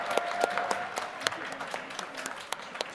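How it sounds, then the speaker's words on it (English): Scattered, thinning applause from the audience at a Harvard Law School commencement ceremony, individual claps popping out distinctly over a soft background that tapers off across a few seconds. "Please join me in a big round of applause for our students."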